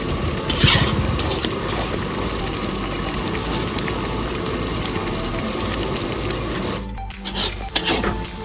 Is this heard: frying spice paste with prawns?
yes